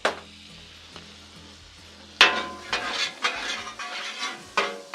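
Butter, garlic and sugar sizzle on a hot Blackstone flat-top griddle, a steady crackling fry broken by several sharp metal spatula clanks and scrapes, close and fairly loud with no talking.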